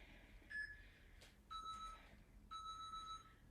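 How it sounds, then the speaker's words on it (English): Electronic workout timer beeps, a short tone followed by two longer paired beeps, clear and evenly spaced against quiet background. "double beep means we have earned ourselves a second water break"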